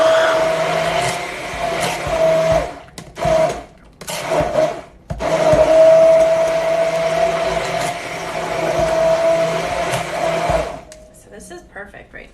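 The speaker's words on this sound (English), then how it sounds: "What I'm doing is just lifting the blender up and down to make sure I get all the pieces." A countertop blender blends fruit for homemade ice pops, its motor whirring loudly and steadily with several brief dips and pauses as the jar is lifted and set back down, then winding down at the end.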